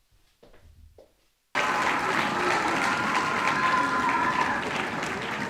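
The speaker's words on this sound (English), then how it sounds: "Thank you for the roar of applause" After a brief murmur and a pause, applause bursts out at an awards ceremony: a sustained, dense crowd clapping that holds steady and loud for several seconds without letting up.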